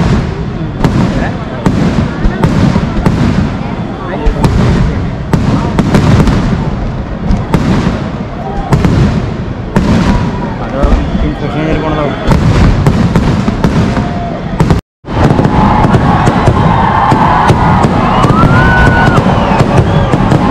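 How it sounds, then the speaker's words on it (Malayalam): The 2022 Thrissur Pooram sample fireworks display thunders with rapid, dense volleys of loud bangs and crackles, a brief silent gap, then whistling rockets and sustained crackling, with crowd voices underneath. "പൂരപ്രേമികളെ ആളാദത്തിൽ ആറാടിച്ച 2022 സാമ്പിൾ വെടിക്കെട്ട് നമുക്കൊന്ന് ആസ്വദിക്കാം"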